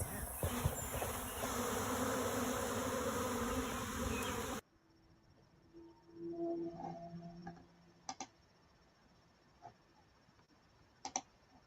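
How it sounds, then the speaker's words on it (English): A close, loud swarm of honeybees drones for several seconds, then drops away to faint buzzing with scattered clicks and taps. "Peter, come get your bees."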